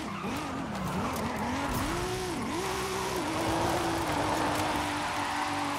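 A car in Forza Horizon 5 drifts on the e-brake in a winter setting, its tires squealing in wavering, repeated swoops over a steady engine drone, loud and close throughout with no voices.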